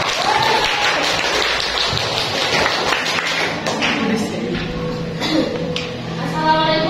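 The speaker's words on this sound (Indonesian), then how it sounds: "Ayo berikan tepuk tangan yang meriah." An audience of a presenting student group applauds steadily for about seven seconds, a dense wash of clapping in a room, with a few voices mixed in underneath.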